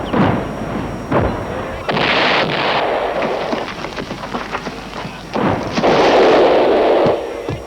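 Cannon fire in an animated battle film plays as a series of loud booming blasts with rumbling decay, repeated several times over about eight seconds while a voice shouts.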